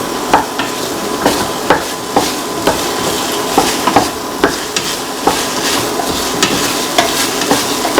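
A spoon stirs a salted tomato, potato and rice mixture in a pan, with regular scraping knocks about twice a second over a low sizzle, close and clear with no talk.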